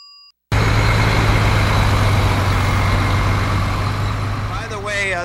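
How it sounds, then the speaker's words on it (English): A radio sound effect of cars going by: after a short tone, a loud continuous engine and traffic roar plays with a steady low hum, while a voice joins near the end. "That's supposed to be the sounds of like cars going by"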